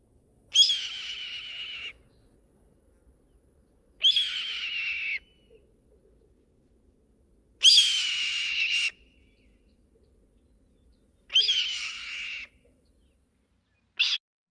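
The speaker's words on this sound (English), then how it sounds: "Red-tailed hawk" A red-tailed hawk gives a loud, shrieking keer call, repeated five times at fairly even intervals, each harsh descending scream about a second long and clear against near silence, the last one cut short.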